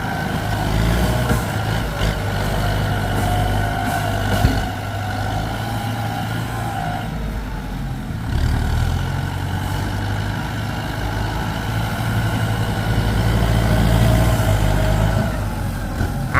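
A Kubota M108S tractor pushes sticky clay soil, its engine a steady heavy rumble that holds loud and close with slight load changes partway through, no voices over it.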